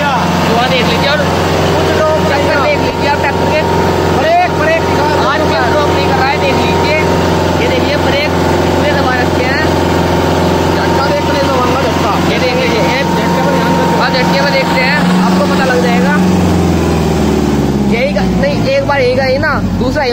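A Kubota MU4501 4WD tractor's diesel engine runs at full RPM with the brakes applied, a steady loud drone that holds throughout, with a voice talking over it.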